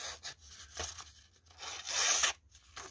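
A Baladeo Papagayo back-lock pocket knife with a spear point, hollow-ground blade cuts and tears through material in several close, rasping strokes, each a short ripping burst, the longest near the end.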